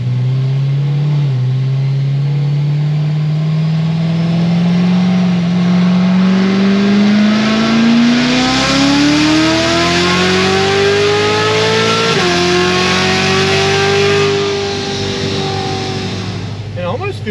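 A Corvette C7 Z06 engine revs hard on a dyno pull. Its loud, close drone climbs steadily in pitch for about twelve seconds, then falls off near the end as a voice speaks over it.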